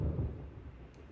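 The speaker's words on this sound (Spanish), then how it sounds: "Escuchas truenos." Thunder rumbles in Persona 4 Golden on a rainy day, a loud low roll that is strongest at the start and then fades slowly while staying heavy throughout.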